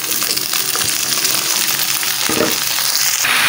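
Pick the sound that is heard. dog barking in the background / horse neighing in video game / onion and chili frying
onion and chili frying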